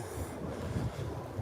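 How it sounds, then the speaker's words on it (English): Strong wind blows outdoors, a steady low rumbling buffet against the microphone with gusty swells, with no voices. "It is really windy out here."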